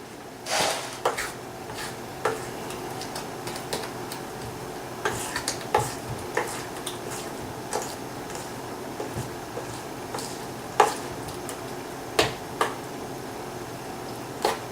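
Cornbread batter made with cream corn is stirred in a bowl, producing faint, sparse ticks and taps of the utensil against the bowl over a quiet steady background, with no voices.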